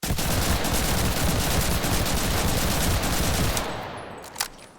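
A Sten submachine gun in the Enlisted video game fires a long, continuous automatic burst, loud and close, cutting off near the end with a brief trailing shot and quiet tail.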